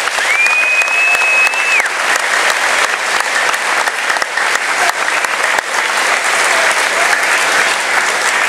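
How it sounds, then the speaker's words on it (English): Loud, dense applause from a graduation ceremony audience at an 8th grade event, continuous clapping filling the room throughout with a brief whistle early on. "Let's give them one more round of applause"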